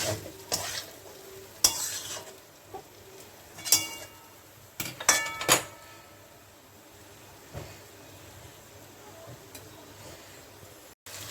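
Banana flower fries in a pan while being stirred, making a soft ongoing sizzle punctuated by irregular loud scrapes and clanks of a utensil against the pan.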